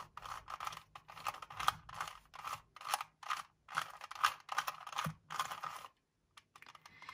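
A 2x2 Rubik's cube is twisted in quick plastic clicking bursts, about a dozen rapid turns in an uneven rhythm, close and clear, ending in a brief pause and a final click.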